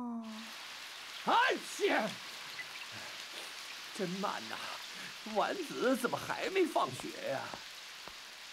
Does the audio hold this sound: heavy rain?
yes